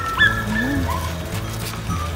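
A sheepdog with a flock in Bosnia gives a short yelp early on, then a few soft whimpering sounds over a constant low background rumble.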